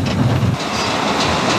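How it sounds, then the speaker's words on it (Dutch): An underground coal mine transport train in Limburg rumbles loudly along its rails, a steady close clatter of wheels and cars with no voices. "In deze verkeersaders vindt het eerste deel van het transport plaats per trein."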